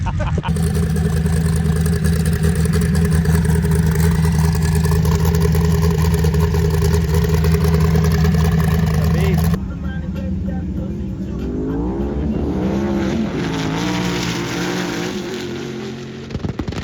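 Sand cars on new sand tires racing across the Glamis dunes, engines loud and steady with a sustained revving drone that drops off partway through, leaving a rougher, more distant engine rumble.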